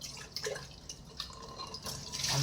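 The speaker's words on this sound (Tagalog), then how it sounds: "hinuhugasan natin ang lagayin ng kutsara" Tap water splashing and dripping while a spoon holder is washed at a kitchen sink, soft and close with small irregular trickles.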